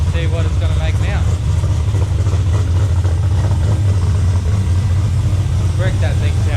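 A tuned turbocharged car idles while warming up on a makeshift hoist dyno before power pulls, a loud, steady low engine rumble running throughout with voices talking over it.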